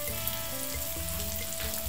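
Hot chili peppers fry with vegetables in a pan for Chinese egg noodles, giving a short, steady, close sizzle with faint crackles.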